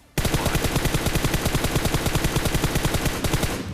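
Sustained automatic gunfire from PUBG Mobile, a fast loud burst of rapid evenly spaced shots running about three and a half seconds with no talk over it.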